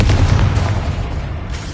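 The Confringo spell detonates in the video game Hogwarts Legacy with a loud, deep boom that rolls and fades over under two seconds, heard alone without speech.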